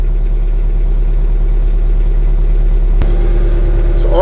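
An LS compact tractor engine idling at about 1100 RPM, a steady, close low rumble with a constant hum, one brief sharp click near the end and a slight rise in pitch at the close.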